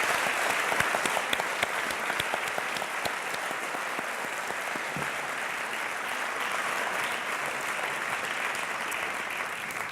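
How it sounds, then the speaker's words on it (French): Loud, sustained applause from a live audience at the 10th-anniversary event of Réseau Entreprendre Bretagne, dense steady clapping filling the whole stretch with no talk over it. "en les applaudissant très très fort tous les deux"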